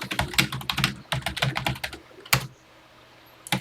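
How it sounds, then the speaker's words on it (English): Fingers type quickly on a TI home computer keyboard, entering a BASIC program; close, crisp keystrokes patter in an irregular run, stop after about two seconds, then one lone key press sounds. "And let's start typing."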